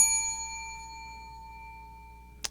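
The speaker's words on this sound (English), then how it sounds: "I will employ what I have called the inappropriate bell." A single bright bell ding struck as a comedy sound effect on a panel show rings out clearly, then fades over a couple of seconds, followed by a tiny click at the end.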